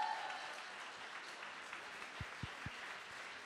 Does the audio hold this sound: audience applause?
yes